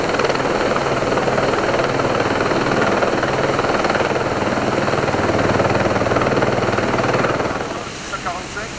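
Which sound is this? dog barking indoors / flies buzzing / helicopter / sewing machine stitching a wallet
helicopter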